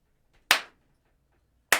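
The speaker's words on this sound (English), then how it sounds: "Sometimes if you just clap" Two sharp hand claps made to unfreeze a laptop, close and crisp, separated by a little over a second of near silence.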